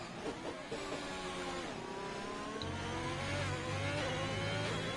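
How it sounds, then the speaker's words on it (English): A Ferrari Formula 1 car starts its push lap in qualifying at the Belgian Grand Prix, its engine note a steady, fairly faint high whine that climbs in pitch as it accelerates through the gears, with no talk. "Push mode for the Ferrari going into turn 1."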